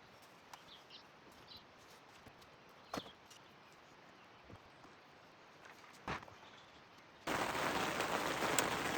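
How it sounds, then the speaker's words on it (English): Faint patter in quiet surroundings near Moab, Utah with a few scattered taps, then rain suddenly becomes loud and hissing, steady and close, for the last seconds. "It's raining again."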